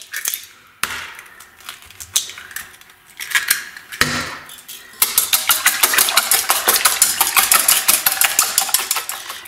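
Eggs cracked into a bowl for brioche dough, a few sharp taps and cracks, then a fast rhythmic whisking clatter against the bowl, close and loud.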